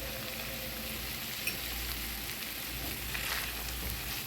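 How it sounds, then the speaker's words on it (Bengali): Onions fry in oil in a pan, giving a steady, soft sizzle with faint crackles throughout, close by and without any voices. "আমি পেঁয়াজটা হালকা বাদামি করে ভেজে নেব"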